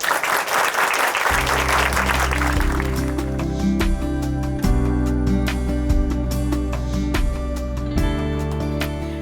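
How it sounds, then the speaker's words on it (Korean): A congregation on a Korean church testimony program claps to welcome Yang So-young from a Chuncheon church. A burst of applause opens, then sustained music swells in beneath the fading claps. "춘천 한마음교회 양소영 자매님 박수로 모실게요"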